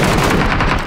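Dense, loud burst of automatic gunfire in PlayerUnknown's Battlegrounds, continuous rapid shots filling the whole short moment with no talk.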